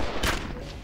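A sentry gun in Empyrion Galactic Survival firing a single sharp, loud shot that cracks close by and then tails off quickly.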